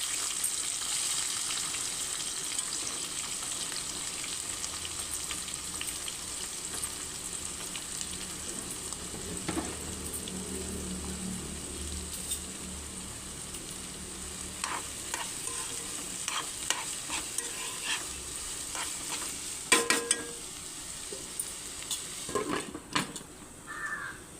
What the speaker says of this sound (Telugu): ఇప్పుడు ఇందులో ఉల్లిపాయలు, పచ్చిమిర్చి, కరివేపాకు, కొత్తిమీర, జీలకర్ర అన్నీ వేసి కలుపుకుంటానండి